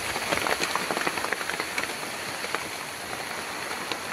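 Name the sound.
raindrops falling in heavy rain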